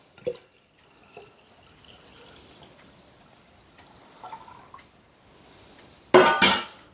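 Birch sap dripping into a bucket, a few sparse, quiet drips at a steady distance, ending in a loud, brief splash or pour of liquid.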